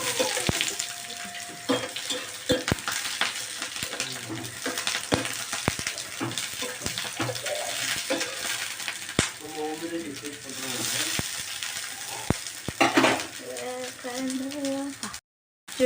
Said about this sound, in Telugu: ఉల్లిగడ్డ వేసుకుంటున్నాను. తర్వాత పచ్చిమిరపకాయ వేసుకుంటున్నాను